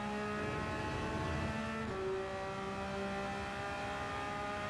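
A Porsche RSR race car engine in Gran Turismo 7 holds a steady, droning tone that steps up in pitch with a gear change, continuous and fairly loud.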